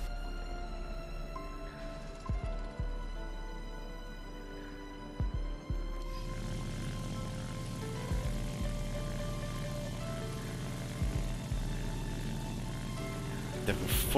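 Propeller plane engine droning steadily in War Thunder, a continuous low hum that thickens into a fuller roar as the aircraft gets going, with occasional soft thumps and clicks from the game interface.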